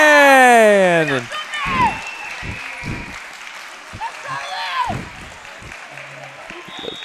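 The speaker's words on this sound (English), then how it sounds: "Crowd's going crazy." A crowd at a varsity high school wrestling match between Deerfield and Evanston cheers and claps in a loud opening burst, then scattered shouts and voices continue in the gym.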